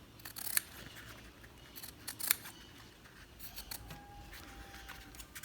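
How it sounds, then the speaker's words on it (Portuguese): Sharp scissors snip leftover pieces of a cardboard egg carton during a craft project: two crisp, close cuts a couple of seconds apart against a quiet background. "Se vocês tiverem com uma tesoura aí bem amoladinha"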